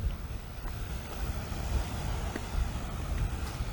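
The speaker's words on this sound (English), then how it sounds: "big sets of water will come off the cliff from the breaking waves on the cliff" Ocean waves breaking against sea cliffs between Belair and Sharks Hole: a steady, fairly faint wash of surf mixed with wind noise, with no voices.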